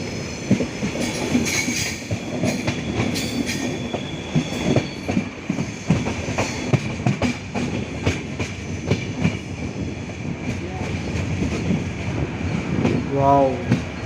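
A passenger train hauled by a locomotive from the Visakhapatnam loco shed runs on the rails near Ichchapuram: a loud, steady rumble with rhythmic clickety-clack, and a brief wheel squeal near the end.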